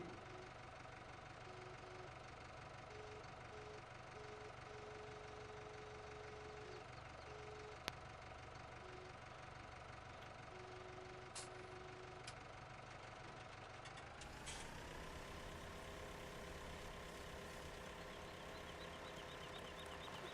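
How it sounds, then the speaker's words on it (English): Small Steyr tractor engine in Farming Simulator 17 droning steadily as it lifts a log, a continuous mid-pitched hum whose tone shifts slightly partway through, alone without talk. "this little small Steyr tractor has picked that log up all by its lonesome"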